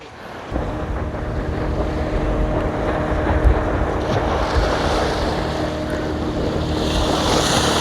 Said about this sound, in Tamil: இங்கே ஒரு போட் வந்துட்டுருக்கு பாருங்கள். கடலுக்கு போய் மீன் பிடிச்சிட்டு இப்போ கரையை நோக்கி வந்துட்டுருக்குறாங்க.